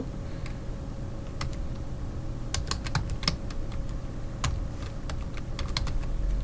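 Someone types PowerPoint into a computer search box, a run of crisp keyboard clicks in irregular bursts, close and clear over a faint steady hum.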